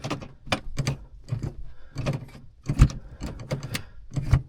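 The gear shift of a small sports car gives repeated sharp mechanical clicks close by, in an uneven rhythm of quick taps and short pauses.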